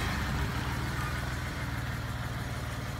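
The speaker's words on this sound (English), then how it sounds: "Now we're gonna start the secondary gas engine." The secondary gas engine of a Minion Miner car runs with a steady, loud low rumble and broadband mechanical noise, continuous and close with no talking.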